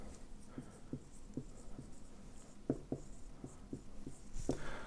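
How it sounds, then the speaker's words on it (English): A pen writes on a whiteboard in a quiet room, a series of faint, short squeaky strokes and taps coming in an uneven rhythm with brief gaps between them. "if I pick a pen here and I just write something"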